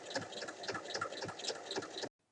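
A sewing machine topstitches across two layers of fabric at the bottom of a fantasy pencil case, a quiet, rapid mechanical chatter for about two seconds before it stops.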